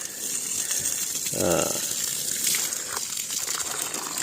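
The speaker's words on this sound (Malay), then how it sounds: "Pump air baru masuk, baru siap pasang." A newly installed solar water pump gushes water on a Musang King durian plot, a steady rushing flow with a brief louder surge and some rattling, while people talk nearby.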